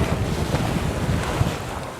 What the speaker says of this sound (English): The north wind quit, the south wind took over.